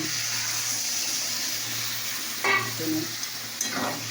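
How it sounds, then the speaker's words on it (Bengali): Water stirred into a ginger, cumin powder and chilli powder paste in a hot pan, giving a steady sizzle with a few sloshing, scraping stirs toward the end, no speech. "তো যখন আমি জল মিক্স করছি এরকম"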